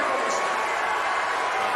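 Steady roar of a large crowd at a strongman log lift world record attempt, a dense continuous murmur of many voices with no break, loud and close throughout.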